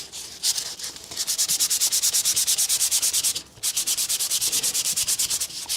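Coarse sandpaper rubs back and forth in fast, even strokes, making a loud rasping scrape close by. A brief pause breaks the rhythm, then the sanding resumes.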